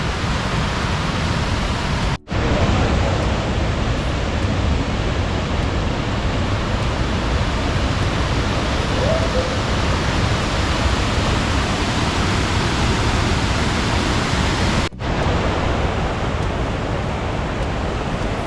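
Waterfall in the Yorkshire Dales, a steady loud broadband rush of falling water running unbroken throughout, with two brief dips, no voices.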